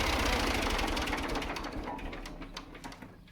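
An old farm tractor engine idling with a rapid rough knocking chug, loud at first then fading and slowing as it is shut off with the choke.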